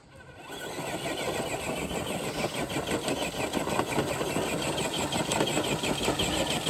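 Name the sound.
Traxxas TRX4 RC truck motor pulling a sled with one brick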